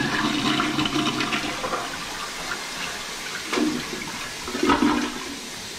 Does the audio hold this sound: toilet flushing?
yes